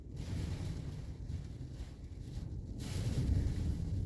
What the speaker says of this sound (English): Very windy outside right now. Shaking the car back and forth.